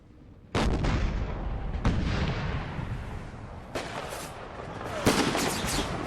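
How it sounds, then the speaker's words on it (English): Cannon fire in Empire: Total War's American Civil War mod, a few heavy booming blasts several seconds apart over continuous battlefield rumble, loud and close. "So that artillery's definitely having an impact."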